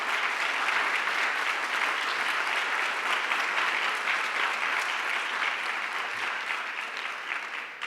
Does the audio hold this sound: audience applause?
yes